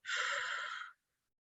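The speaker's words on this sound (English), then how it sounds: "Deep breath in." A single deep inhalation during a guided breathing exercise, close and clear, a smooth airy rush lasting just under a second and then stopping into silence.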